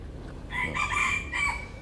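A Tagalog gamefowl rooster crows once nearby, a loud drawn-out call that rises and then breaks into a second held note.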